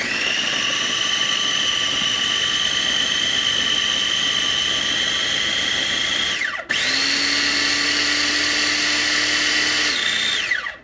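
A countertop blender roars steadily as it purées peppers, garlic and ginger for homemade sriracha. The whine dips briefly partway through, picks up again with a changed pitch, then shifts once more near the end.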